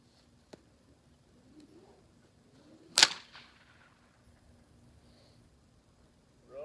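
A bullwhip gives one sharp, loud crack close by during a horse-desensitizing session, with faint rustling, a small snap and quiet movement before and after it.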